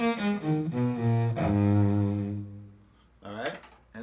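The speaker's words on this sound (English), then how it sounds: "And I've got a couple of interesting electric violins here that I discuss in the article." An electric violin bowed through a short series of sustained notes with sliding pitch changes, a long held tone, then a brief pause and a quicker phrase, played alone at moderate volume.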